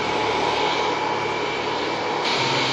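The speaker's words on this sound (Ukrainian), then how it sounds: "18 російських літаків Іл-76, ущент набитих солдатами та технікою, кружляли над Білоруссю" Russian Il-76 military transport aircraft, loaded with troops and equipment, circling over Belarus, their engines a loud, steady broadband roar with a constant drone and no voices.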